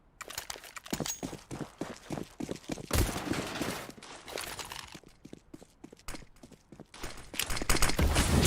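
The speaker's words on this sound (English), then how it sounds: "Shots coming through." Rapid gunfire from a Counter-Strike match in an ESL Challenger League game: dense bursts of shots and footsteps crackling throughout, swelling loud near the middle and again at the end, with no talk.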